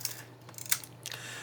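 The film advance lever on a Yashica Lynx-1000 rangefinder camera is wound, making a short run of close, crisp mechanical clicks and ratcheting, with no talking.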